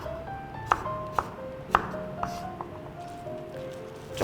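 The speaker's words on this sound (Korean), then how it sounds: "마늘도 얇게 편 썰어주세요" Garlic sliced thinly with a knife on a cutting board for cabbage and oriental melon water kimchi, a handful of crisp, irregular knife taps close by over soft background hum and faint tonal sounds.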